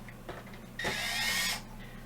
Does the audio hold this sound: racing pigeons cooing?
no